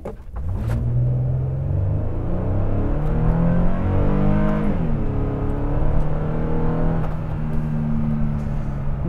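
A Toyota Sienna minivan accelerates under a pressed gas pedal, its engine note climbing steadily through the gears in a loud, close, continuous rumble heard from inside the vehicle.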